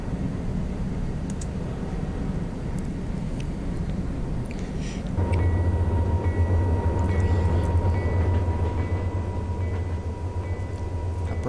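An eastbound freight train of empty grain cars climbs an upgrade through Yoho, its low steady rumble growing louder partway through and joined by a sustained droning engine tone, with no talk.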